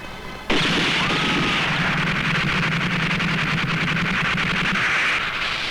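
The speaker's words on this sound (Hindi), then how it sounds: "ये तो तमंचे की आवाज है भैया" A loud burst of country-made pistol gunfire erupts after a brief quiet and continues for several seconds, with rapid repeated shots blending into a dense crackle.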